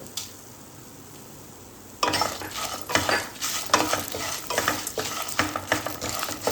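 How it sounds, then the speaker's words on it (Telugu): Brinjal frying in a pan with dry red chillies and sesame seeds, first a quiet hiss, then loud sizzling and scraping stirs that recur unevenly, close up and with no voices. "ఇది కొంచెం వేయించుకోవాలి."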